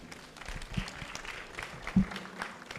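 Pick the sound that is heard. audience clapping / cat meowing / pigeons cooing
audience clapping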